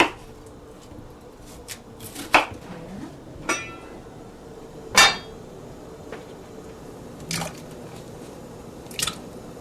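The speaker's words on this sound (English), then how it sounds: "So we're chopping these up so they'll boil faster." Peeled potatoes chopped with a knife on a board, a handful of sharp, irregularly spaced cuts over quiet room tone, no speech.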